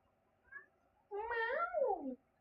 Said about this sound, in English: My cat's trying to say something.